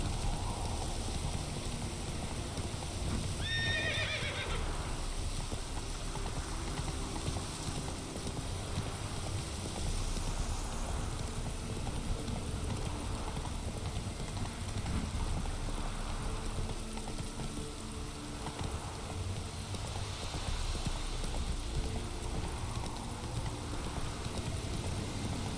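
Horse galloping in The Witcher 3, a steady, muffled hoofbeat rhythm running continuously under a dense game soundscape, moderately close and even in loudness throughout.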